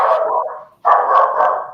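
A dog barks loudly and close, two rough sustained barks split by a brief pause, with no talking over them.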